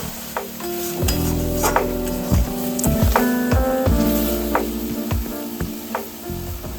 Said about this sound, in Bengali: তারপর ঢেকে দিয়ে হাই ফ্লেমে মাশরুমটাকে রান্না করব।